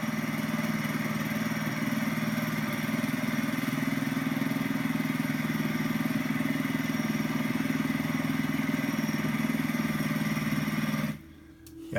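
A Mab Ghiro walking tractor's engine runs in low gear just above idle, a steady, close chugging rumble with a light clatter that holds evenly for about eleven seconds before it suddenly drops away at the end.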